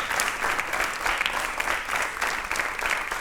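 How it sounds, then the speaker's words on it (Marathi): A studio audience at a Marathi television show applauds loudly and steadily for over three seconds, a thick wash of many hands clapping together with no voices on top. "एकदा जोरदार टाळ्या."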